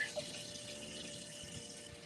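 A pump pushes water into the live well of a fishing boat, a steady faint hum with a trickling flow that continues evenly.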